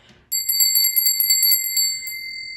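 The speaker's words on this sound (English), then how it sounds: "she gifted me with this bell" A small hand bell rings in rapid jingling strokes for about a second and a half, then its bright metallic tone lingers and fades, close and loud with no talk.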